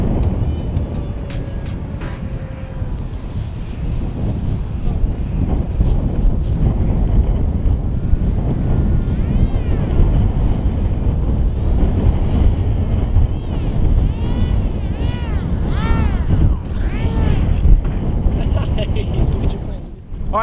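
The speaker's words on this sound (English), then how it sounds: "That wind's kicking it too." Gusty outdoor wind buffeting the microphone with heavy low rumbling and rushing bursts throughout, while voices talk faintly underneath.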